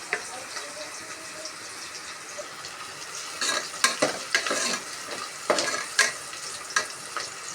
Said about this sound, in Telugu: ఆయిల్లో ఆనియన్స్ బాగా బ్రౌన్ కలర్లో వచ్చేలాగా వేగేలా చూసుకోవాలి.